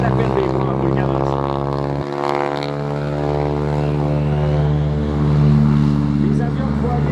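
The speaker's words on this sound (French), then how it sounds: "Les avions qui vont aller décoller s'en vont en direction d'Ottawa." Propeller airplanes at an air show drone with a deep, steady engine hum and pulsing harmonics, one passing close and loud, while a person talks over it at times.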